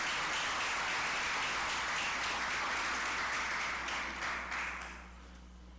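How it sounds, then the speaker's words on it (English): An audience at the launch of the MILO Primary School Games claps for national athletes, a steady, moderately distant round of applause that tapers off toward the end. "A round of applause for them."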